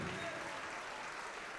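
A church congregation claps together in a dense, steady wash of applause that fills the short moment evenly, with no distinct voices standing out.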